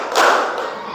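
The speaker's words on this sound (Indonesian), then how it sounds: "Tepuk 2." A group claps together in a clapping game: one loud, close, sharp burst of clapping hands, then a much fainter second clap that fades off.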